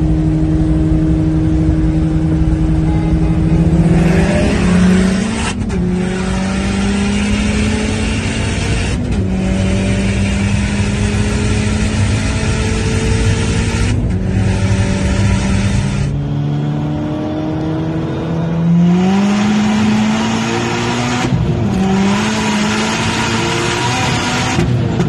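Volkswagen Polo WRC with a 600 hp engine accelerating hard, a loud, close engine roar climbing in pitch through repeated gear changes, each shift marked by a brief dip before the revs rise again.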